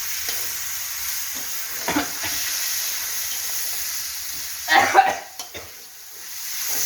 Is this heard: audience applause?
no